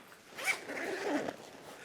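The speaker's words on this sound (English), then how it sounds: "unzip it all the way around" A backpack's expansion zipper being pulled open around its edge, a close, quiet rasping zip that rises and continues for about a second before stopping.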